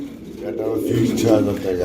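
Soft, low pigeon cooing rolls in repeated bursts, fairly close, with a person talking over it.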